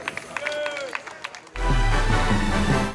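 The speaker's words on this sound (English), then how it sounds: "Let's give it a huge round of applause." Crowd applause and cheering at a Newark street unveiling for Mayor Kenneth A. Gibson Boulevard, starting loud and sudden halfway through after talk and continuing as a dense, steady burst of clapping.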